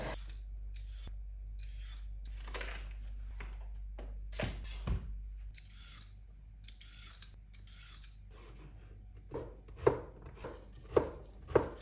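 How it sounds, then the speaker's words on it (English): Knife chopping carrots on a board in short bursts of sharp, crisp cuts, getting quicker and louder near the end, with no talking. "So chopping that up, I'm doing carrots again."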